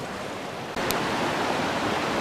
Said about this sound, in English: hopefully you can hear me over the water